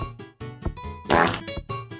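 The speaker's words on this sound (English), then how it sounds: "Yo, did you just fucking fart?" A loud, close fart lasting about half a second, set among other blurting noises in a Gorilla Tag setting.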